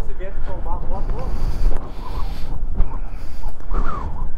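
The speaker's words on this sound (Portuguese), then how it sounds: "Tá ventando." Strong wind buffets the microphone at the Jama international border pass in the Atacama during a sandstorm, gusting in uneven low rumbles. Someone talks over the wind throughout.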